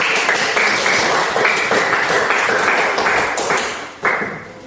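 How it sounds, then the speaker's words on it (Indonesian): A classroom of students claps for themselves during a lesson, close and fairly loud rhythmic clapping in repeated bursts that dips briefly near the end and then resumes. "Tepuk tangan untuk diri kita sendiri."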